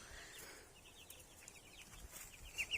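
Faint, thin chirps from a small chick, a few quick high peeps over quiet background hiss, with two clearer calls at the end.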